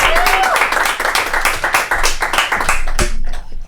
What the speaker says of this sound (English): Give a round of applause for Robert Rowe.